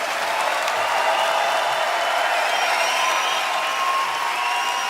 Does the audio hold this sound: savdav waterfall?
no